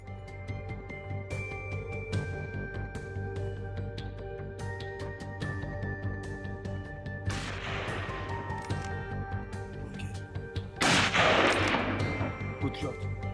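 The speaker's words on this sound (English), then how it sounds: "A burst of gunfire rang out and the wild hog dropped instantly." Gunfire during a hog hunt: a sharp burst of shots cracks out, followed by a second louder crashing burst a few seconds later, over a busy background hum.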